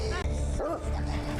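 A dog in a television drama gives a few high whimpers and sharp yelps over a background score, the cries rising and falling briefly near the middle.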